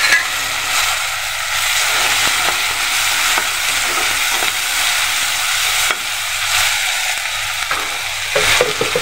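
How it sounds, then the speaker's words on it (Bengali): Onions and chopped tomatoes frying in a pan, a loud continuous sizzle close by with occasional stirring scrapes and no speech. "পেঁয়াজটাকে একটু ভাজবো, সম্পূর্ণ বেরেস্তা করব না"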